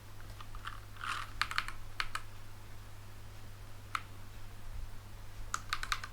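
Fingers typing a command on a computer keyboard, with short bursts of clicking keystrokes spaced by pauses, fairly close and quiet over a steady low electrical hum.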